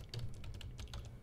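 Quick, steady keystrokes on a computer keyboard while entering a formula in an SSRS report, a close run of clicks lasting about a second over faint background hum.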